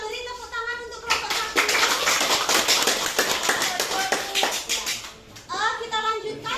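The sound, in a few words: applause for group 1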